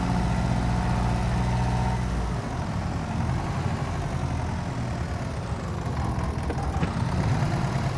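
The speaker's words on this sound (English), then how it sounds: "now that we have the Lamborghini tractor, we should be able to move a bigger trailer without any issues" A Lamborghini tractor engine running on a farm, a steady mid-to-low engine drone close by, with a slight shift in tone partway through and no talk.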